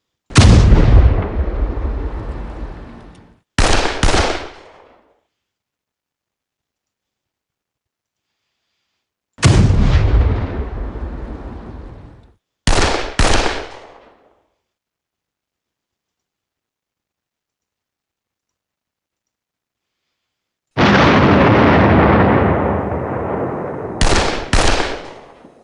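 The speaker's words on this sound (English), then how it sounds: "I will continue firing at this infantry unit." Artillery and gunfire in the wargame Panzer Campaigns Budapest 45 come in three loud bursts, each a long rumbling boom followed by sharp cracking shots, separated by silence.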